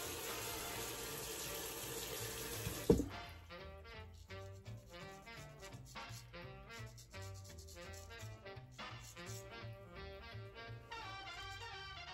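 Tap water runs steadily from a faucet while a razor and face are rinsed clean after a shave with Victory Shaving Company Flak Bait soap, starting with a loud splash, then continuing as close, fluctuating splashing and trickling without talk.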